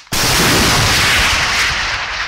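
Gunfire from a news report on fighting, where a militia commander directed the shooting: a sharp, loud burst starts abruptly and rolls into a dense, sustained crackle and rumble close by, with no voices.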